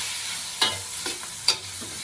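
Rice tossed and stirred in a hot pan for pineapple fried rice, a steady sizzle with a few distinct scraping strokes of the spatula at regular intervals, close and clear.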